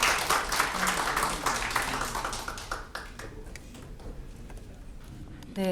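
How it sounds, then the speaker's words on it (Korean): Audience applause at a Korean real-estate industry presentation on remodeling, greeting the next presenter: dense, steady clapping from a crowd that fades somewhat toward the end, with faint background murmur. "다시 한번 박수 부탁드립니다."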